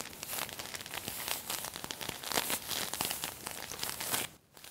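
A plastic bag holding salt or flour is crinkled close up to imitate a crackling campfire, giving a dense, continuous crackle and crunch that runs steadily and then cuts off abruptly near the end. No one speaks.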